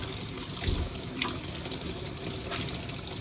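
Water runs steadily from a sink tap while eggs are washed, a constant broadband splashing rush with a few brief louder splashes and clinks against it, close and continuous, no talking.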